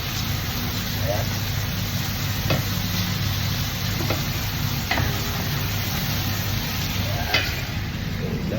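Foul, the Arabic fava bean dish, stirred in a pan with tomatoes as it cooks, giving a steady sizzle and frying hiss with periodic scraping strokes of the spoon, close and continuous.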